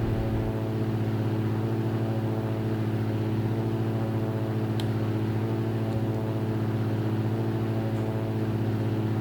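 A Cirrus SR22T piston engine at full takeoff power in X-Plane 11 drones with a loud, steady, strongly tonal hum that holds unbroken and constant.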